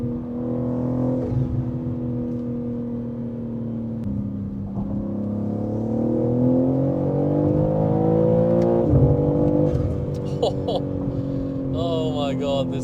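A Manhart MH3 650 BMW M3 Touring with a ZF torque-converter automatic pulls hard on the autobahn, its engine note climbing steadily in pitch through the gears, loud and close from inside the cabin, with a voice talking over it.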